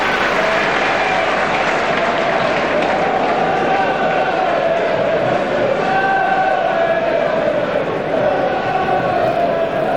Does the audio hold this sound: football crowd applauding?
yes